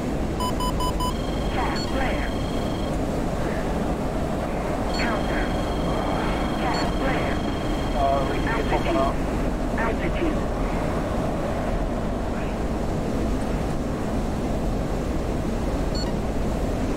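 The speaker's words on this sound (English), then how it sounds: "Yes, going into burner. Supersonic." An F-16 with afterburner engaged in the DCS flight simulator makes a steady, dense cockpit roar that fills the whole stretch, with scattered electronic beeps and warning tones layered over it.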